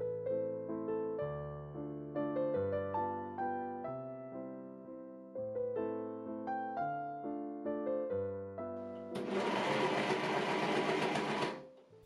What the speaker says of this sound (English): I machine sew the cuff on from the inside.